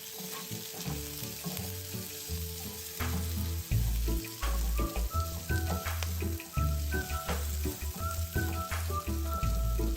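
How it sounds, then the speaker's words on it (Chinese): Curry paste with curry leaves is stir-fried in a pan with a loud, continuous sizzle, broken by rhythmic scraping and tossing of the spatula. It sounds close, with no talking. "一直爆香至咖喱酱溢出香气，将2只咖喱叶洗净后加入，"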